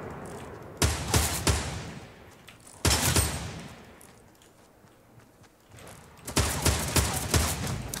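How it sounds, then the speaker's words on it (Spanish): Bursts of rapid gunfire from the video game Fortnite, fired in several volleys separated by quieter stretches, loud and close. "te he dado 1000 tiros"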